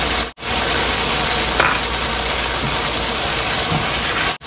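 Shredded carrots sizzle and fry steadily in a pan for a beef and tomato stir-fry, a continuous dense crackle holding at an even level throughout with no talking.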